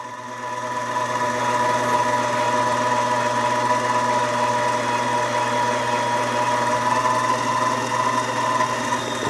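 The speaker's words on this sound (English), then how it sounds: "We're going to go ahead and trim that and then just touch up the neck." Lyman Case Prep Express motor running while trimming rifle cartridge cases, a steady mechanical whir with a sharp tonal hum that starts up and holds evenly, close and fairly loud, with no speech.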